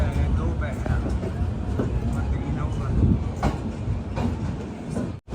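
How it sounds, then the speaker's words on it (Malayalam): A train pulls into platform three at Shri Mata Vaishno Devi Katra railway station, a low continuous rumble of railcars with clanks and rattles, close by, while people talk over it. "മൂന്നാം നമ്പർ പ്ലാറ്റ്ഫോമിലേക്കാണ് നമ്മുടെ ട്രെയിൻ വന്നത്"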